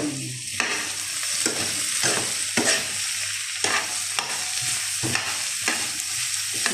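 Onion and garlic sautéing in a pan for a potato and corned beef dish, a steady close sizzle broken by repeated stirring scrapes at a fairly even rhythm, with no talking.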